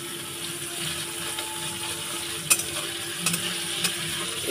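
Pieces of homemade paneer, lightly salted, sizzle steadily in a pan, a constant hiss of frying with a few sharp clinks and taps of a utensil against the pan.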